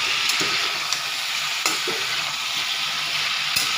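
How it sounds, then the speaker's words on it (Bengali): Drumstick flowers frying in hot oil in a pan, a constant bright sizzle with several sharp scrapes and clacks of a spatula stirring them, no voices over it. "তেলের মধ্যে ভাজতে দিয়ে দিলাম।"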